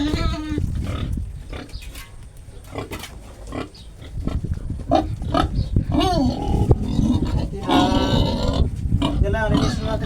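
A pregnant sow close to farrowing grunts and squeals in her pen, loud and close in uneven bursts, with a person talking over her.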